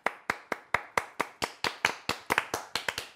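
A lone pair of hands claps about a dozen times in an even, fairly quick rhythm, each clap sharp and close, with no voices.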